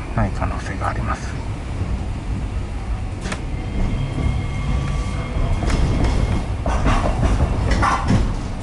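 A new barrier-free train in Hokkaido runs past loudly with a steady heavy rumble and scattered clicks and squeals, a voice briefly audible beneath it.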